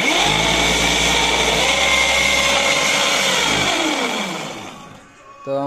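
An electric auto-rickshaw motor spins up after a controller repair, its steady whine rising and falling in pitch, loud and close, then winding down near the end.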